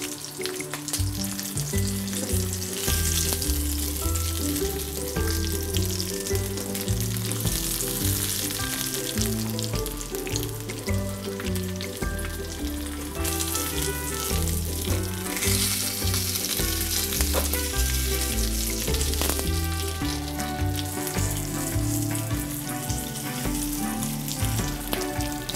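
Sesame-coated feta cheese frying in hot oil, a steady, dense sizzle that runs close and loud throughout, with a continuous tonal layer underneath.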